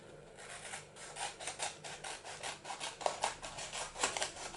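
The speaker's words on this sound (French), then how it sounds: "On va refaire le même pliage." Soft, close rustling and rubbing of a 9 cm square sheet of paper in repeated short strokes as it is creased and folded, quiet with no talking.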